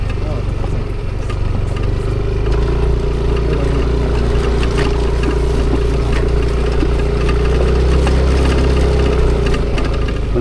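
A motorcycle engine idles on a mountain trail with a steady, loud, rough rumble that continues without a break throughout.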